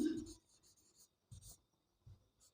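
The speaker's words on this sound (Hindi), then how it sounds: "तो यहाँ लिखते हैं समीकरण" A pen or chalk writes out an equation during a class 9 maths lesson, making short scratchy strokes in separate bursts against near silence, with a faint voice at times.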